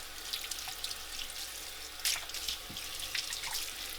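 Tap water runs steadily as a Breville juicer part is rinsed in a sink, with a soft continuous splash and occasional sharper drips and clinks, fairly quiet and alone.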